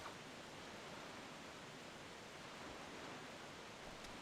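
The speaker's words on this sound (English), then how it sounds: "That waterfall sounds weird." A waterfall in the video game The Wind Waker roars as a steady, broad rushing wash of water, constant and fairly faint, with no talking.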